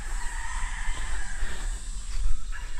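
Chickens cluck softly on a farm where chicks have just been set out on green grass, faint scattered calls over a low outdoor rumble, with no talk.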